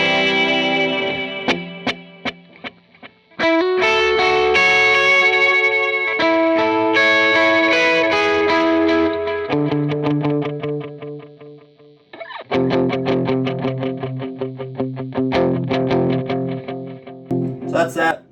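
Electric guitar on a clean tone through a Strymon Timeline set to eighth-note delay, picked notes and chords trailed by echoing repeats, close and fairly loud, playing alone without talk.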